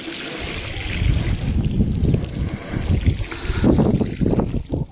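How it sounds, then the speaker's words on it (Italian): Water is poured onto Sicilian soil over freshly sown chickpeas, making a steady close trickle and splash that runs unbroken for several seconds. "Gli buttate un pochettino di acqua così"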